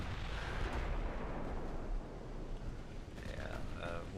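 Heavy naval gunfire in a dreadnought-era battleship game: a deep, rumbling boom of big guns rolling on for a couple of seconds, then a quieter stretch with a voice talking over it.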